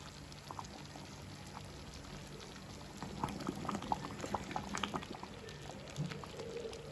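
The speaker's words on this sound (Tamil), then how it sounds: "பால் நல்லா கொதிச்சு கொண்டு வந்துட்டுது." Milk boils in a pot for a traditional yam kali, giving a steady close bubbling and simmering hiss with scattered small pops that grow a little busier partway through, no voices.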